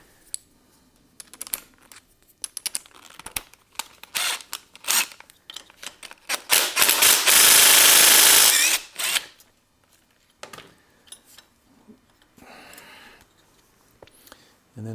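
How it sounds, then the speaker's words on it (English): Loosening the 12 mm front brake caliper bolts on a Yamaha Tenere 700 during steering head maintenance, with scattered clicks and ratcheting, a few short bursts, and one long loud tool run in the middle before quieter handling noises. "So 12 mil to take off the caliper."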